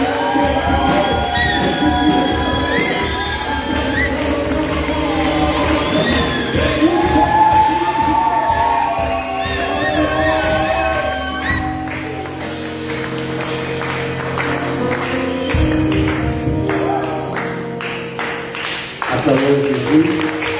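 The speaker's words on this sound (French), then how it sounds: "m'accompagner en recevant par des acclamations et des cris de joie" A church congregation at a teaching service erupts in loud, sustained cheering, whoops and joyful shouts, with music and voices blending into a dense crowd roar that continues for the whole stretch.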